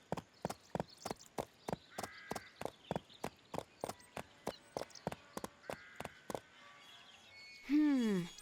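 Hooves of a horse clip-clop at a steady walking pace in Barbie Horse Adventures, crisp evenly spaced steps heard alone, ending with a short whinny-like call.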